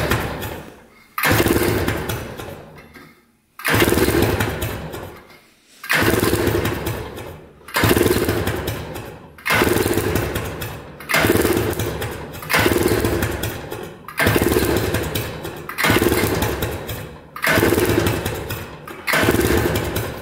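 An ATV engine cranks over during a compression test, with the starter turning in about nine loud, even bursts separated by brief pauses. Each burst has a rhythmic chugging, the sound is close, and no one speaks.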